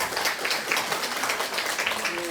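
An audience claps steadily at a forestry business presentation in Iksan, with dense, sustained applause from a room of people and a voice speaking over it.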